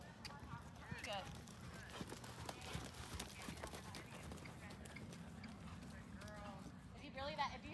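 A horse trots forward during a warm-up session, its hoofbeats a faint, even rhythm underneath a near, steady voice giving instructions.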